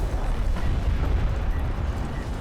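A barrage in a sci-fi strategy game pounds the area with a dense, rumbling wash of explosions, heavy low booms blending into a continuous roar with no clear gaps.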